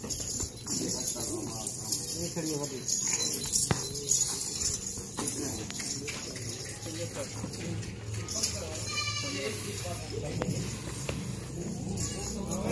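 Gabban goats on a goat farm bleat repeatedly amid a noisy pen, with birds chirping and people talking throughout.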